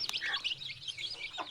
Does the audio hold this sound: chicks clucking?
yes